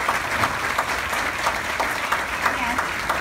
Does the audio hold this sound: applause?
yes